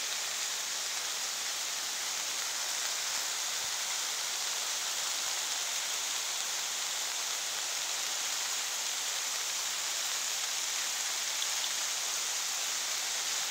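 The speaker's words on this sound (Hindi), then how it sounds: "बारिश रुकने का नाम नहीं ले रही है एक बार और लग रही है देखो कितनी ज़्यादा आ गई बारिश" Heavy, steady rain pours continuously, a dense hiss of drops striking surfaces with no pauses and no voices.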